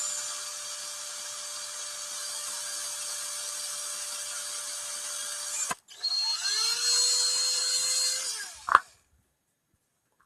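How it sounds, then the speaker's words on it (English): A power drill bores a hole through a wooden peg, running with a steady high whine for several seconds, stopping, then spinning up again with shifting pitch before cutting off sharply; close and loud, no talk. "when you back the drill out, make sure you've got your finger down on the trigger"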